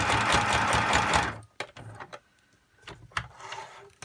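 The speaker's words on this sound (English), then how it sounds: "now I'm just stitching straight down this ruffle, just a little way, just over the zigzag that I did originally" A sewing machine stitches a fabric ruffle down for a junk journal in one fast, loud run for over a second, then stops, followed by scattered clicks and small handling noises.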